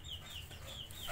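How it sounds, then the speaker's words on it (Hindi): Small farm chicks cheeping in a pigeon and budgie coop, a steady run of thin high chirps overlapping close by with low farmyard hum beneath, no talking. "हमारे चूजे देखो, ये फार्मी चूजे हैं।"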